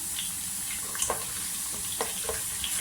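Chopped onions sizzling in hot oil in a pan for dhaba-style channa dal, a steady soft frying hiss with a few light clicks of stirring, no talking.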